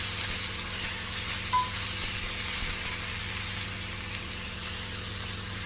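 Onion uttapam fries lightly in a little hot oil, a soft continuous sizzle with a faint low hum underneath and a couple of small clinks.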